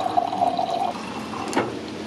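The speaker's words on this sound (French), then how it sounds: "C'est cette super machine qui nous permet ici d'avoir des glaçons, de l'eau, eau chaude pour le café et pour le thé." A water dispenser machine that also gives ice and hot water, in a kitchen in Bali, fills with a soft steady flow of running water, fairly quiet, with a brief splashing burst near the end.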